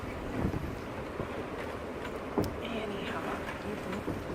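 Blustery wind by a bay buffets the microphone in a constant rushing roar, with occasional sharper gusts and knocks, fairly loud and continuous.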